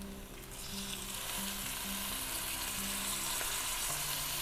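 Tomatoes drop into hot oil in a pan already cooking ginger-garlic paste for a fish curry, setting off a loud, steady hissing sizzle that continues evenly, with faint low tones humming underneath.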